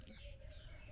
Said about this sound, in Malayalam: കിളികളുടെയൊക്കെ ശബ്ദം ഇങ്ങനെ നല്ല രസമായിട്ട് കേൾക്കാട്ടോ കൂടെ.